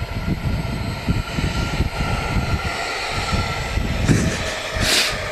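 A passing airplane at Manchester Airport produces a steady, loud engine roar with a broad rushing drone. The sound holds fairly even throughout, with slight swells near the end and no talk over it.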